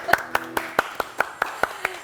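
Audience claps hands in a slow, even rhythm for a young singer at a gathering, about ten crisp claps spaced evenly apart, while a faint voice sings or hums along underneath.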